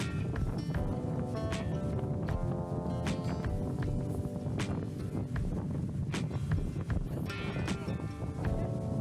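Strong wind buffets the microphone outdoors on a road trip in Finistère, a steady loud rushing roar with gusty rumble throughout and occasional thuds.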